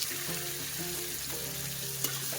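Tomato and sugar fry together in a pan for a vegetarian papre dish, giving a steady, close sizzle broken by a few soft scraping stirs.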